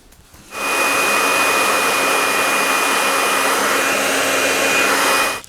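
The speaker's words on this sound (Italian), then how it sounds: "lo asciugo velocissimamente con un phon" A hair dryer switches on and blows with a steady, loud whooshing whine for several seconds before cutting off, drying paint on a furniture knob.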